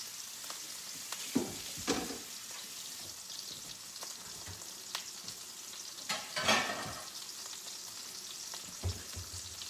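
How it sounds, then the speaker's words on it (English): Veggie beans simmering in a pot on the stove, a steady soft bubbling sizzle with occasional louder stirring scrapes and clinks, heard alone without talk. "Now I'm gonna turn my veggie beans down a little bit so they can simmer."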